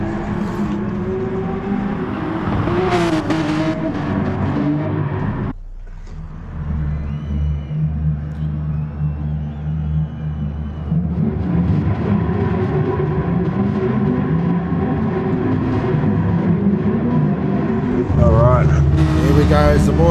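In a racing video game on the Brands Hatch GP circuit, a full grid of Porsche race cars rumbles out onto the track with a steady engine drone that swells and shifts. A commentator talks over it throughout.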